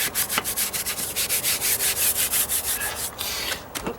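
A worn throwaway paintbrush swipes sealer onto wooden deck stairs in a quick, steady run of rhythmic back-and-forth scrubbing strokes, close and fairly loud, with no talking over it.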